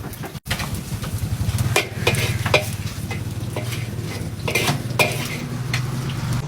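Mi goreng noodles sizzling in a hot pan with steady stirring and metal utensils scraping and clinking, close up, no talking.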